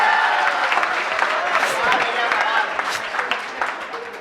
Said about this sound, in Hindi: इतनी धाकड़ पंक्तियों के लिए आपकी तालियां थोड़ी सी जोरदार होनी चाहिए।